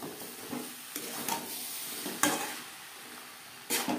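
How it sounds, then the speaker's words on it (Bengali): Fried potatoes and peas cook in a pan on a high-to-medium flame, giving a steady soft sizzle broken by a few scraping stirs, close up with no talking. "3-4 মিনিট রান্না করে নেওয়ার পর দিয়ে দেব ভেজে রাখা আলু। হাই টু মিডিয়াম ফ্লেমে 2-3 মিনিট কুক করে নেব।"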